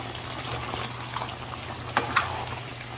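Potatoes and carrots being stirred into simmering chicken afritada in tomato sauce, a soft steady bubbling with a couple of faint scrapes and clinks from the spoon.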